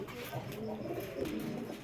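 A male racing pigeon from a racer club coos in low, soft repeated phrases close by, over a steady murmur of background noise.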